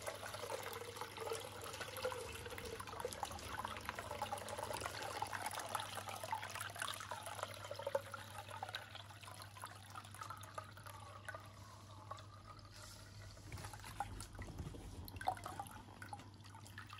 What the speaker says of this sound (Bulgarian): минаха 2 дни, откакто сложихме бъзът във водата и сега го прецеждаме.